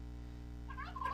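Short turkey-like gobbling calls from a fowl in the Minecraft video game, rising near the end over a steady low ambient hum.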